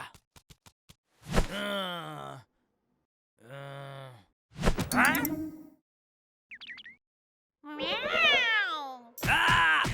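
Several drawn-out, wailing meows with strong harmonics, interspersed with pauses and a few short clicks, close and fairly loud.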